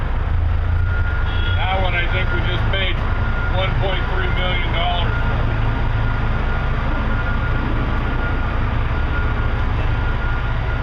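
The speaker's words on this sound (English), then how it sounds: "So that's a Cat 60-ton haul truck." A Cat 60-ton haul truck reverses underground in a mine, its repeating reversing beeps sounding over a heavy, constant engine roar while someone talks nearby.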